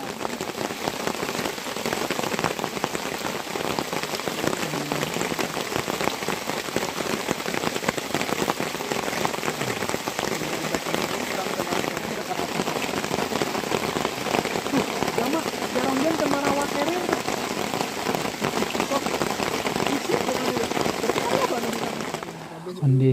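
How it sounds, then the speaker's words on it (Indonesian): Steady, dense rain pours down on a mountain hiking trail near Pos 3 Pangguyangan Badak on the way to Mount Ciremai, a continuous close hiss of drops hitting the ground and foliage that holds evenly for the whole stretch. "Kondisi masih hujan menuju pos 4."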